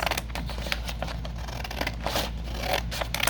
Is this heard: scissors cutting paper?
yes